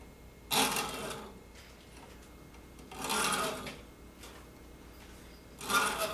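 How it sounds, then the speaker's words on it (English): A hacksaw cuts a starting groove with three separate rasping push strokes, each about half a second long, spaced evenly apart and fairly close. Quiet pauses fall between the strokes. "So move the hacksaw in the same direction for starting that groove."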